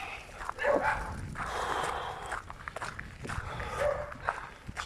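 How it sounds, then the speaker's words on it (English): Several kennel dogs bark and yip at a moderate distance, scattered short barks over outdoor footsteps and wind-like rustle during a walk. "Got some kennel dogs there."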